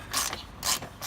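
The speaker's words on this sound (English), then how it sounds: "you're going to need a couple of wrenches, a 15 millimeter and a 13 millimeter" Ratcheting wrench working on the bolts of a John Deere X300 lawn mower deck cover, three short bursts of rapid clicking with brief pauses between, close and fairly quiet, with no talking.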